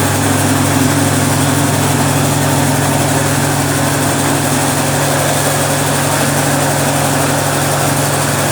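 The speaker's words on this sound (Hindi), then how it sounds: "6 टायर में है, हेवी मोटर है और हेवी चक्की है इसके ऊपर में" A heavy-duty flour mill (aata chakki) driven by a 7.5 hp single-phase motor runs at a constant loud drone with a steady low hum and grinding roar, continuous and unbroken throughout.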